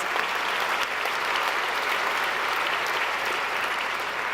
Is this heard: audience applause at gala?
yes